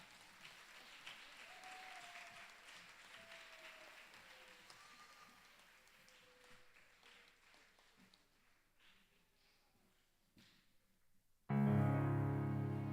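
Audience applause at a graduating class ceremony after a scripture reading, many hands clapping steadily and gradually fading over several seconds before a sudden loud burst of noise cuts in at the end.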